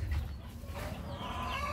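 Rhode Island Red hens cluck nearby, a few short throaty calls over a steady farmyard background with no one speaking.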